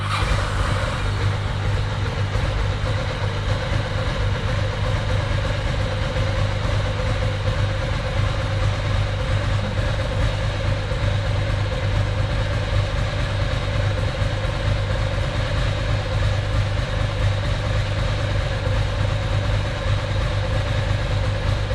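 A Ducati SS/Monster engine fitted with Mikuni carburettors, with mixture screws about five turns out, idles steadily with a constant low throbbing hum and no change in pitch, close and fairly loud throughout.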